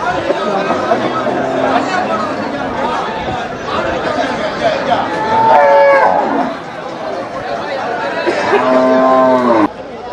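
Cattle low repeatedly at Melapalayam cattle market, drawn-out moos rising over a constant babble of crowd chatter and voices, with one louder bellow nearby midway and another near the end.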